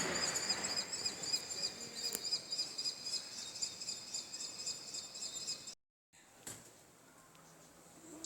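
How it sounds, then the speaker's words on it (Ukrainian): High, thin chirping calls from two bird chicks, kestrels or little owls, calling for their parents to feed them, repeat steadily against a faint insect-like hum, distant and quiet, with a brief dropout near the end. "Два пташенята і вони кричать."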